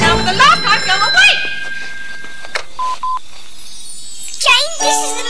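Telephone signal tones sound in a cartoon scene, with several short beeps and a sustained electronic tone between lively voices of characters talking.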